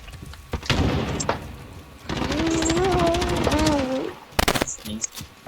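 Call of Duty gunfire in bursts, with sharp rapid shots and a sustained rattling volley mid-clip, while a player talks over the game sounds.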